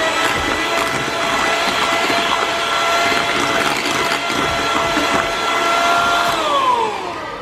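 Electric hand mixer beating eggs with vanilla essence for banana bread: a steady, loud, high whirring motor drone throughout, pitch dipping briefly near the end, with no talking.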